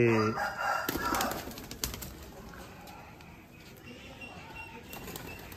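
A pigeon on a rooftop in Tarn Taran, Punjab, beats its wings in a quick, close burst of flapping near the start, followed by quieter rustling and faint background noise.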